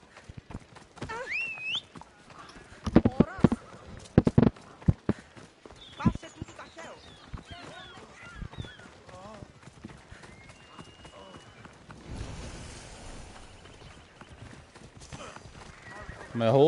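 Hollow, rhythmic horse hoof clip-clops on hard ground in Assassin's Creed Odyssey, with a whinny and bursts of other game sounds and speech.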